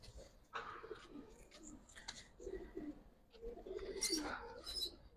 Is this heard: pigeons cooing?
yes